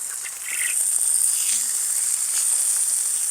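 Chicken sizzles in a carbide steel skillet, a loud, even, hissing crackle that holds steady the whole time with no speech over it.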